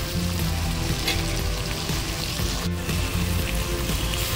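Pumpkin flowers go into hot oil in a pan while Maggi noodles are being made, setting off a loud, steady sizzle and crackle of frying that continues throughout with no talking.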